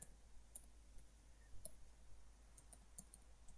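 Faint, sparse mouse clicks on a computer, a few isolated sharp ticks spaced irregularly over a quiet background, no voices.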